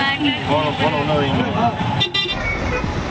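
Busy road traffic in Chennai, with car horns tooting repeatedly over a dense engine rumble. A person talks throughout.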